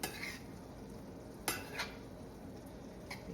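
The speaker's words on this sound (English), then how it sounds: "let's give this a stir" Beef liver being stirred in a pan, with a few sharp scrapes and clinks of a utensil against the metal over a faint steady sizzle, close and fairly quiet.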